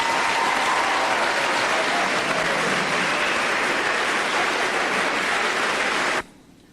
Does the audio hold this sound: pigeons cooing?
no